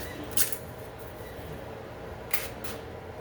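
A can of olive oil cooking spray is test-sprayed in a home kitchen, two short hissing bursts about two seconds apart, close and fairly loud against a quiet room.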